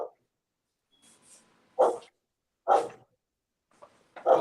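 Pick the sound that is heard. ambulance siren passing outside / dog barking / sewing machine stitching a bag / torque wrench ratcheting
dog barking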